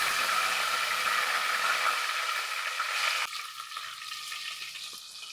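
Fenugreek seeds and curry leaves crackle and sizzle in hot oil, a loud, dense hiss that suddenly drops to a softer, steady fry partway through.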